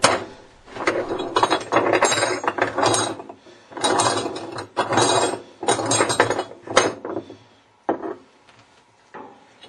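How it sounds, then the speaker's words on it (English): A tool ratchets in repeated bursts of clicking, grinding turns as it loosens the left-hand-threaded hub nut on a General Electric washing machine drum, with brief pauses between the close, fairly loud sequences. "You will need to turn it clockwise to remove the hub nut."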